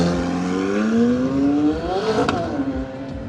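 A car pulls away from a car meet, its engine note rising steadily as it accelerates, then passing close by with a brief sharp crackle before fading slightly.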